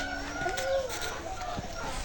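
A chicken clucks in soft, short calls nearby, with faint background noise around it, on a foggy village morning.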